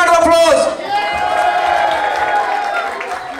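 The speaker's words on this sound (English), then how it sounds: "Another round of applause." An audience at a walima ceremony applauds briefly in a short burst of clapping and cheering that fades within a second, followed by a voice talking over a lingering sustained tone.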